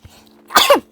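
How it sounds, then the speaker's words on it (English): One abrupt, explosive sneeze, close and loud, bursting out after a brief quiet moment. "Inside, I'm going to sneeze."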